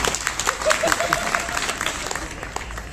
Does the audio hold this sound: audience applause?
yes